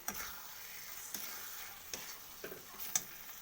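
Paneer sizzles softly in a pan of hot oil as pieces are gently turned, with faint scraping and light clicks of a utensil over a steady low frying hiss.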